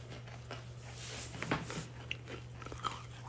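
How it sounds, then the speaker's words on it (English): Someone chews close to the microphone, with crunchy bites and wet mastication under a steady low hum, no talking. "chewing ASMR."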